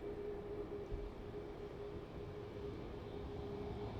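A Bombardier Global Express business jet, G-LMHA, taxis along a taxiway, heard as a steady, distant engine whine and low rumble that holds evenly throughout, with no voices.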